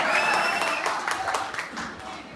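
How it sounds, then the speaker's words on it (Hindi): Audience applause at a Hindi comedy stage show, a steady wash of clapping from a crowd, fairly loud and continuous, thinning slightly toward the end. "एक बार दोनों हाथ खोल के जोरदार ताली बजाएं"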